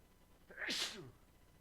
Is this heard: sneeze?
yes